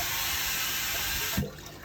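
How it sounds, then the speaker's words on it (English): Pond airlift pump bubbling water with a steady, dense rushing gurgle that holds evenly, then drops off sharply near the end to quieter low bubbling. "that airlift's just bubbling away nicely"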